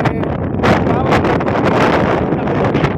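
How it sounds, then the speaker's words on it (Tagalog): Strong wind buffets an outdoor microphone in loud, rumbling gusts that surge and roar continuously, with muffled voices partly buried underneath. "lakas ng hangin"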